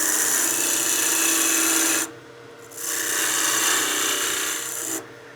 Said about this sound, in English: it's a peel cut with my skew